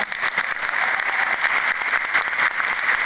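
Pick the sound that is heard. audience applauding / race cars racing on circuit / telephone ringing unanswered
audience applauding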